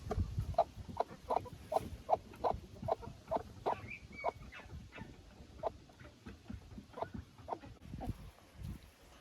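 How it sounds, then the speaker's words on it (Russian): Hens cluck in a chicken coop at a country house, a close run of short, regular clucks that comes in quick bursts and then thins to a few scattered calls. "Иду собирать яйца в курятник."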